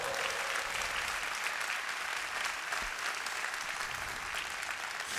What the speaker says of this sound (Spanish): Da un aplauso fuerte a Dios